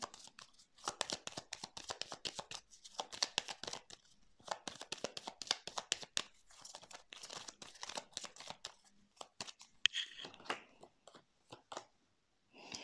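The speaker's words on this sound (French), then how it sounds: "je vais mettre des cartes sur les nuages pour voir" Cards being laid out one after another up close, producing quick papery flicks, snaps and soft crinkles in an irregular rhythm for about twelve seconds, with no voices.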